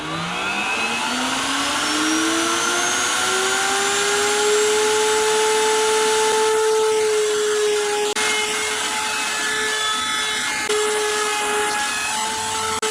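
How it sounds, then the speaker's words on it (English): A router table with a 45-degree bit routes the bottom and edges of a wooden gun stock, giving a loud, continuous high whine whose pitch shifts slightly as the cut proceeds, with no speech. "we're going to route the bottom of the stock and then all around it"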